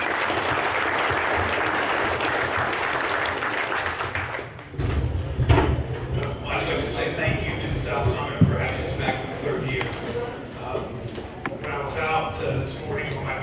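Audience applause welcoming a panel at a wireless industry summit, sustained steady clapping for about five seconds, then fading into scattered claps with a speaker's voice continuing over the room.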